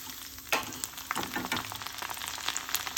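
Crushed garlic and curry leaves frying in hot oil for an ivy gourd fry, giving a dense, steady crackling sizzle up close with occasional louder spatters and pops, no voices.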